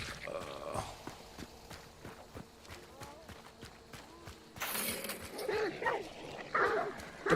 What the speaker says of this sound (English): The puppies.